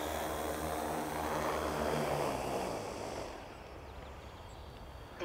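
Small Astro quadcopter drone on its first flight, propellers whirring with a steady tonal buzz that winds down and fades as the motors stop, leaving quiet near-field background.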